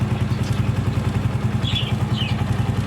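A motorcycle engine that had run low on oil idles smoothly and steadily after oil was added, a close, even low throb with a couple of faint chirps above it and no knocking.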